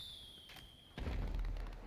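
Fireworks at a race finish in GTA V Online: after a faint high tone, a sudden deep boom lands about halfway through, followed by rumbling crackle and thuds.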